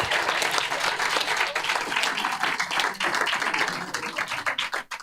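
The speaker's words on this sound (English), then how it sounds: "let's give them a big round of applause" Audience applauding after a fifth grade school play, loud, dense clapping filling the whole stretch, with a brief dip near the end.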